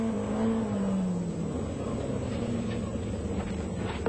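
Race car engine during the 1994 AMC race at Winton, a steady, hard-working drone with pitch shifts as the car changes speed, heard at a moderate distance over faint commentary.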